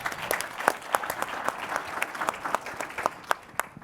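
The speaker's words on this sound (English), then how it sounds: "round of applause for yourselves" A conference audience at a Southeast Michigan county leaders event gives a round of applause, steady dense clapping with sharper individual claps standing out, moderately distant and fading toward the end.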